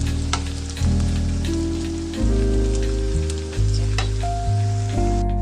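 Garlic and onion fry in a pan, a steady crackling sizzle running throughout and overlaid by a loud, shifting electrical hum, with occasional sharp clicks from the pan.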